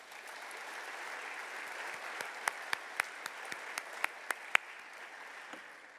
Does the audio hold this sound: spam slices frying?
no